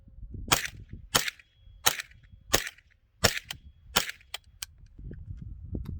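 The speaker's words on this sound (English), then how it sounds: "so I can pretty much shoot in any direction" Sharp gunshots from a Tippmann M4-22 .22 rifle fired outdoors in open desert, seven crisp cracks spaced roughly evenly at first, then a few quicker, lighter reports near the end, with no talking.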